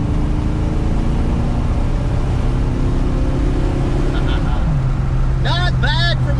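Stock-engine Fox body Mustang with an AOD automatic and 2.73 gears pulls from a roll, its steady engine drone dropping in pitch at an apparent upshift, with a voice cutting in briefly at the end.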